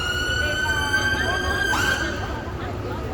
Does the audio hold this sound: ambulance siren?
yes